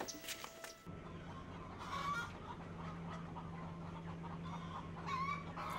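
Chickens cluck and call from the chicken houses on a farm, a steady murmur of many birds at a moderate distance with a low, constant hum beneath and a few brighter squawks rising above.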